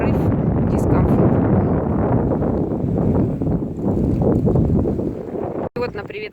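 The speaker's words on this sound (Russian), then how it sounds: "ветер здесь тоже не очень сильный, но порывистый" Gusty wind on the seafront at Gelendzhik buffets the microphone in loud, uneven roaring bursts that swell and ease, with faint background sounds and a brief dropout near the end.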